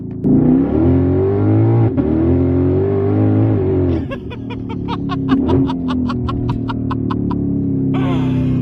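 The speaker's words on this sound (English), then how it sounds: "The noises this thing makes on upshifts! Oh, that pop!" A loud Ford GT500 with straight-piped exhaust revs hard, then a rapid string of sharp exhaust pops and crackles rings out on the upshift, close and aggressive.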